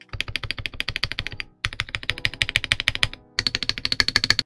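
Rapid clacky typing on an LTC NB1041 Pro full-size mechanical keyboard with lubricated, plate-mounted switches and stabilizers on a steel plate, three bursts of close, crisp keystrokes separated by short pauses, no voices.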